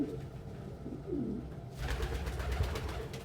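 A pet bird coos softly at close range, its low murmuring calls giving way to a louder rustling, fluttering noise.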